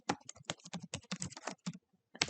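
Someone types on a computer keyboard, a close, quiet run of about twenty crisp keystrokes in quick irregular bursts, ending after a short pause with one last tap; no one speaks.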